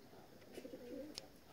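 Outdoor pigeons coo softly in one brief, low, warbling phrase, faint and somewhat distant, over quiet background noise and a small click.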